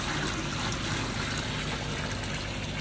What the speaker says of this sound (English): a bit of really hot water in this channel drain, just pour it in here